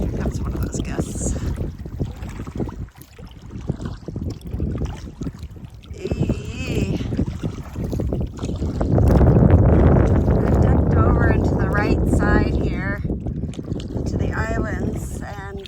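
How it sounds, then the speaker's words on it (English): Wind gusting across Kipawa Lake in Quebec heard from a kayak, a broad rushing roar that swells louder midway, with someone talking over it and some water and paddle noise. "Here comes one of those gusts."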